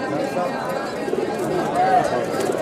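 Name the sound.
pigeons cooing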